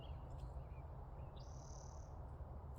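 Birds call outdoors at Mount Shasta. A few faint, thin whistles and chirps sound at a distance over a steady, low wind-like rumble, with no talk.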